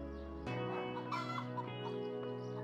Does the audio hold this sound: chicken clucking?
yes